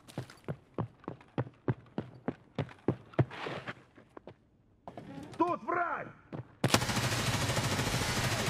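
Escape from Tarkov gunfire on the Labs map: about a dozen sharp, evenly spaced shots crack close and loud, then break off into a brief hush, followed by rustling and a burst of steady noise.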